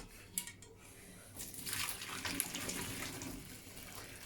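Cooked pasta is poured out to drain, a rushing splash of hot water with metallic clinks from the pot, starting with a brief knock and swelling into a steady pour.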